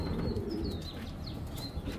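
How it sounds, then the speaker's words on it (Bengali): Domestic pigeons in a loft coo softly while wings flap and rustle nearby, with a few thin chirps rising over a steady low murmur of birds. "আর নটটা হলো ওনার ঘরের কবুতর।"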